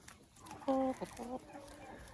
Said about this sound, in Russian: Это курочки, которые у меня сейчас несутся.